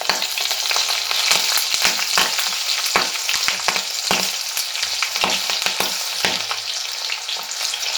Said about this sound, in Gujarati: વઘારને આપણે સારી રીતે ફૂટવા દઈશું.